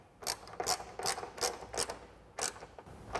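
A hand ratchet with a 13 millimeter socket tightens the side step bolts on a 2021-2023 Ford Bronco, giving quick bursts of sharp metallic clicking in a steady rhythm, close and clear with short pauses between strokes.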